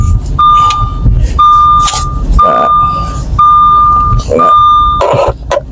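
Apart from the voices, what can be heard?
Audi A4 B8 passenger seatbelt warning beep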